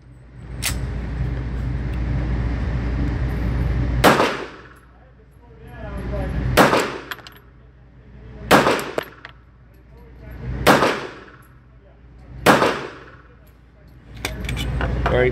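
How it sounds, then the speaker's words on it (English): Five sharp, loud gunshots from an ASAI One Pro .45 ACP pistol ring out close by at a steady pace, the first shot fired double action, each one followed by a fading ring. "So we're gonna shoot this double action on the first shot."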